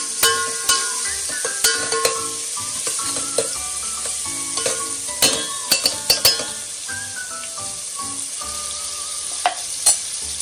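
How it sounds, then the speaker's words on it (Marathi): Onions sauté in a pan for mutton rassa, giving a constant sizzle broken by repeated sharp clinks and scrapes of a metal spatula against the pan, uneven in rhythm, close and fairly loud, without talking. "आणि मग त्याला थोडासा व्यवस्थित परतून घ्या थोडासा लाल"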